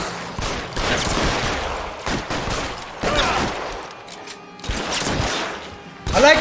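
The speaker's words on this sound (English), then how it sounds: "We're shooting through." Rapid bursts of gunfire in the LA Noire video game, a car-chase shootout aimed at tires, repeated volleys crackling in clusters with short gaps between them, loud and close.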